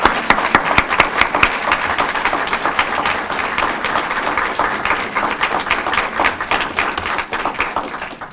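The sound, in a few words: audience applause at a candlelight vigil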